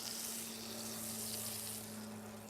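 Eggs frying in butter in a pan on a small portable stove, giving a steady, close sizzle and crackle with a constant low hum beneath, no talking.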